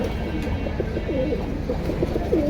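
Silver pigeons coo in a series of soft, low, rolling calls, repeating steadily over a constant background hum.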